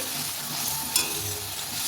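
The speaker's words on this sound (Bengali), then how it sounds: "মশলাটা আরেকটু ভাজা ভাজা কষানো হয়ে আসুক তারপরে আমি আলুগুলোকে দিয়ে ওর সাথে নাড়িয়ে নেব" Spice paste of onion, garlic, ginger and chili frying in a pan as it is stirred, a soft steady sizzle with a brief scrape of the spoon midway, close and quiet, with no talking.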